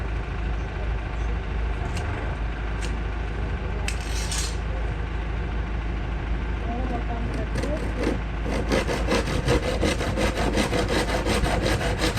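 Hand sawing of wooden boards, a steady run of rasping strokes that grows into a faster, clearer rhythm toward the end, heard over a constant low rumble with some talk in the background.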